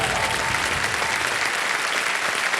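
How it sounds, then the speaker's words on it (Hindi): A studio audience on the KBC quiz show claps in a dense, sustained round of applause, even and loud from start to finish with no pause. "तालियां बज जाएं इनके लिए"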